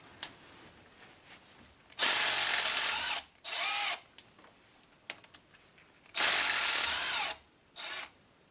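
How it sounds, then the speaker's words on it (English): A power tool works the bank 1 timing chain tensioner on a Maserati engine: two long whirring bursts of about a second each and two shorter ones, separated by quiet pauses with faint clicks. "So I'm going to remove the tensioner for bank 1 first."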